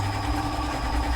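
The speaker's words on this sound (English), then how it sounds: "It's hard for me to talk and sew at the same time, so I'm full speed" Steady mechanical whir of a sewing machine running at full speed with a ribbon and sequin presser foot, a continuous close hum with no pauses.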